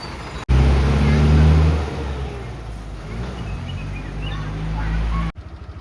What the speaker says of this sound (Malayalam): ഇഞ്ചിത്തണ്ണിയിലെ സ്കൂൾ ബസ്സാണ്